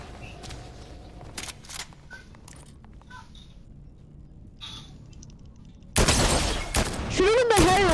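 Rapid gunfire bursts erupt in a battle royale video game, loud and dense after a quieter stretch of scattered game sounds, with rising whistling tones near the end.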